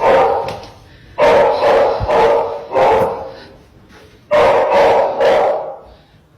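A pet dog named Josie barks in loud bursts inside a house, a quick cluster of sharp barks followed by a pause and then another close, forceful series.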